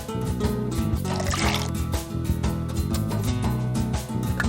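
Water poured in a cooking video game while making orange marmalade, a steady liquid trickle and fill running continuously under game music.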